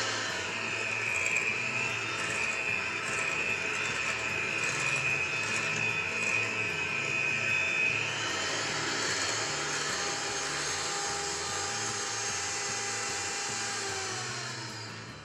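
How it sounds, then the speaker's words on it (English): Egg white and sugar are whisked in a large bowl toward stiff peaks, giving a steady, even whirring hum close by that runs unbroken for about fifteen seconds and eases slightly near the end, with no talking. "my white, some sugar, and we are going to start whisking"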